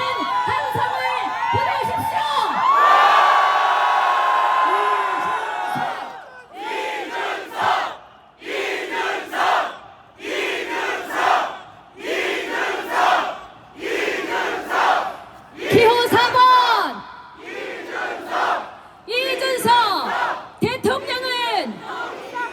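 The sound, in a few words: crowd cheering and shouting at a political rally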